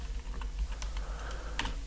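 Keys on a computer keyboard tapped in a short, quiet burst of clicks while code is entered into an editor, with a steady low hum underneath and no talking.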